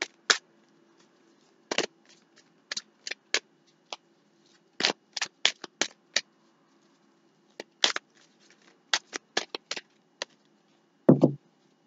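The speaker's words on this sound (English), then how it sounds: "you give this 4 shuffles?" A tarot deck shuffled four times during a reading: quick, crisp card slaps and flicks in irregular clusters, close and fairly quiet, ending in one heavier knock, with no voices.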